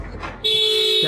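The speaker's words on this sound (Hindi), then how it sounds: "तो क्या हुआ इसे देखो जरा, क्यों हॉर्न बजा रहा है?" Car horn sounding in a street scene, one sustained loud honk following a brief muffled moment, close and held to the end.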